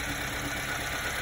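A Subaru Sambar engine idles just after a carburetor adjustment, giving a steady, continuous low running hum with no speech over it.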